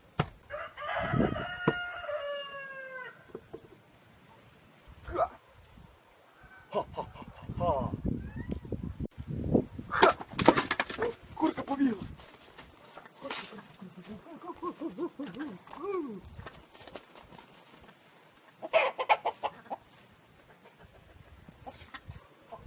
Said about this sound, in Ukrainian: Курка біжить без голови.